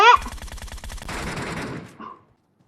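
Automatic rifle fire from the PUBG Metro Royale video game, a rapid burst of evenly spaced shots for about two seconds that fades out, loud and close.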